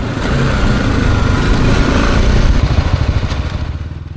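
A BMW G310GS single-cylinder motorcycle engine runs steadily while riding, a loud, even drone with muted exhaust and a pulsing throb that eases slightly toward the end, with no voices.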